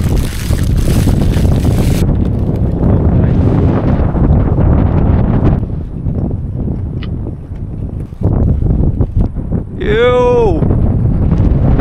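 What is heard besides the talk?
strong wind blowing into the microphone during a storm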